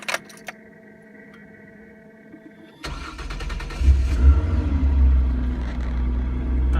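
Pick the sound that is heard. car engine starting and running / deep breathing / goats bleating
car engine starting and running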